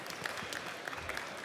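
A conference audience at a start-up award session claps in a brief, dense burst of applause, heard at a moderate distance.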